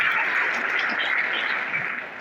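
An audience at an annual school prize distribution ceremony claps steadily in a dense, even wash of applause that fades slightly toward the end.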